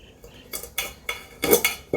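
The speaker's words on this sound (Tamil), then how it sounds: "இந்த ஓரத்தில் வந்து இதை அப்படி கட் பண்ணிக்கங்க" Scissors snip the ends of an orange kanakambaram bridal veni garland in a few crisp, close clicks spaced irregularly over two seconds.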